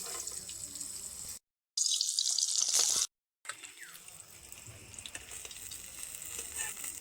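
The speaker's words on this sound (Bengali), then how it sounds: "আগেরবারের মতন লাল লাল করে ভেজে নেবো উল্টে পারি এই মাছগুলো ভাজা হয়ে গেছে" Koi fish frying in oil in a kadai, a bright, close hiss of bubbling oil broken by two short silent gaps, then settling into a quieter, steady sizzle.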